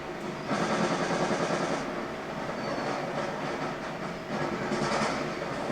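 Automatic gunfire rattles in the Call of Duty Black Ops 2 video game, dense sustained bursts of rapid shots in a couple of long strings over continuous in-game noise.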